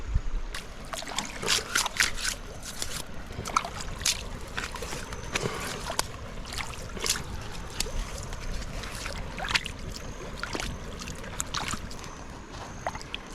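Water splashing and trickling as a container is rinsed out by hand beside a campfire in the Australian outback, with repeated sloshes and clinks over a soft background.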